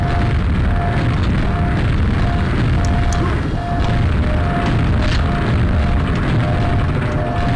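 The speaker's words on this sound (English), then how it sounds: "Grenade launcher." Grenade launcher explosions in a zombie video game form a dense, continuous rumble of booms and blasts, loud and steady throughout, with a faint repeating tone above.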